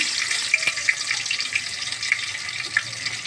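Green chillies fry in oil in a pan, a steady hissing sizzle with scattered small pops and crackles, close and continuous with no speech.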